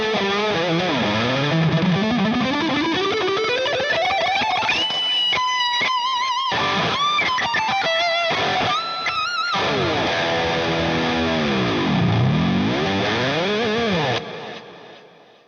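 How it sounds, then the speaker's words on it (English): Electric guitar through a Strymon Riverside overdrive pedal with the gain fully up, heavily distorted shred playing with fast sweeping runs, bends and rapid staccato notes, loud and saturated, ringing out alone before fading at the end. "pushing the gain all the way up, you can get a tone that, for shred stuff,"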